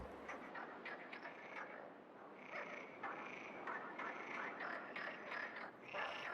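Frogs croak in a spring pond on the Iberian Peninsula, a faint, rapid chorus of repeated calls overlapping at a distance with no voices.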